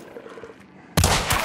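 A single loud gunshot from the video game Hunt: Showdown, fired at a dog, bursts out sharply after a quiet stretch of ambient game sound.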